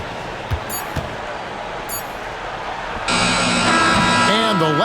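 Arena buzzer sounding at the end of an NBA basketball game between the Miami Heat and Washington Wizards, a loud sustained electronic blare arriving after crowd noise and a few squeaks, with a voice commentating underneath.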